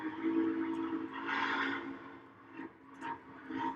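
A model train whistle sounds among friends running trains, a steady tonal blast held for over a second, then shorter hoots repeated, fairly close with no talking.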